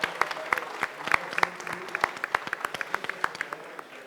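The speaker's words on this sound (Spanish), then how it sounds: "Por favor, un fuerte aplauso." Audience applause at a book presentation during a book fair, a sparse round of individual claps with distinct sharp hits, moderately distant and fairly quiet, steady for a few seconds then thinning out.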